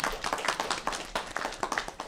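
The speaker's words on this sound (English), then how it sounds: "A round of applause for that." Applause at a small-business briefing with Pennsylvania's governor in Lancaster, honoring a long-running local business: a short burst of uneven clapping from a modest group, close and crisp, with no talk over it.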